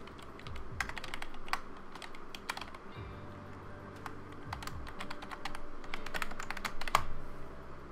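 Computer keyboard typing a username and password: a close, quiet run of irregular light key clicks over a low background hum.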